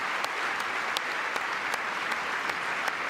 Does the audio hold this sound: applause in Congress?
yes